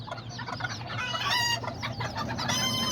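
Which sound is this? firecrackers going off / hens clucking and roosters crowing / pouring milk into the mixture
hens clucking and roosters crowing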